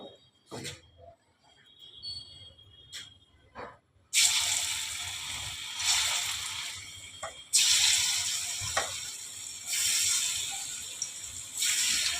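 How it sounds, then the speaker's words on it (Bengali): Dhoka, lentil cakes for ol dalna, go into hot oil in bursts, each dunk bringing a loud sizzling hiss that fades a little before the next batch, with quieter kitchen clatter at first. "এবারে আমি এগুলোকে ভাজবো।"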